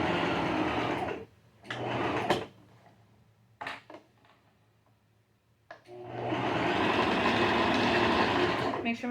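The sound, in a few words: sewing machine stitching shorts band to side pocket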